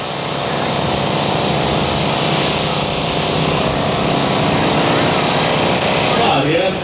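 A pulling tractor with carburetor trouble roars at full throttle during a tractor pulling contest in Verl, Germany, in 2000. The engine holds a loud, steady drone throughout and swells slightly toward the end.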